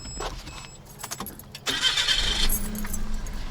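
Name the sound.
car engine starting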